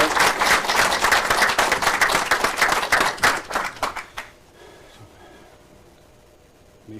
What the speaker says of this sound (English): So give yourselves a clap, guys.